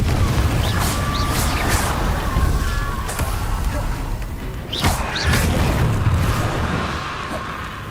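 Repeated Confringo fire spells cast in Hogwarts Legacy on the hardest difficulty, heard as loud booms and crashing impacts with whooshes over a dense battle din, while a voice speaks over the fighting.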